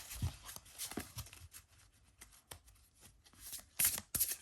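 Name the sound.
shuffling a tarot card deck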